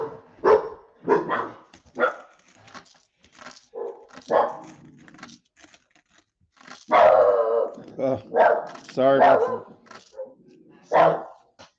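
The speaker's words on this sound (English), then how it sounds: "so the one dog goes outside and barks at him at the fence" A dog barks repeatedly at the neighbour's dog across the backyard fence, the sharp barks coming in irregular bursts, with a person speaking briefly between them.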